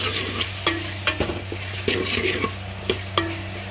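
Onions and other ingredients fry in a pan under a lid, with a constant sizzle and a low hum. Sharp spatula and lid clicks come at irregular intervals, and no one speaks.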